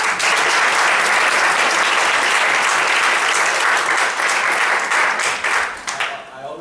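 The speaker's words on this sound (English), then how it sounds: "let's give the wise a big round of applause" Big round of audience applause at a spiritual afternoon gathering, loud, dense clapping from a crowd sustained steadily throughout and thinning slightly at the end.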